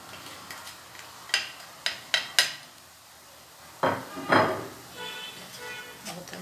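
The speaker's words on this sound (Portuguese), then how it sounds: "Vou estar mexendo." Ground beef with peppers, onion, garlic and seasonings being stirred in a pan with a utensil, a series of sharp scraping clacks against the pan over a faint sizzle, with brief talk in the background.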